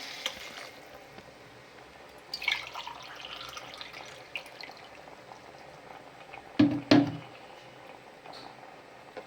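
Water poured into a pot of millet and lentils for khichdi, a soft liquid rush with bubbling, and a brief louder splash and clatter about two-thirds of the way through.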